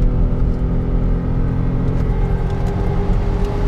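BMW E39 car engine held at high revs while driving, a loud, steady droning roar with a constant low rumble and no voices.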